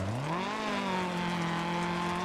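Engine of a rally car on a dirt stage in the video game Dirt Rally, revving up sharply then holding a steady high-pitched drone as it speeds along, loud and continuous with no talking.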